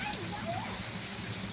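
Heavy rain falls steadily at a Krishna temple during Janmashtami in Gokul, Mathura, a dense continuous patter with faint voices in the background.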